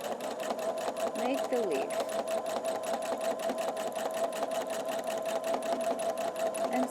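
A sewing machine stitches a leaf shape into a quilt, its steady rapid needle hum running loud and unbroken throughout while someone talks over it.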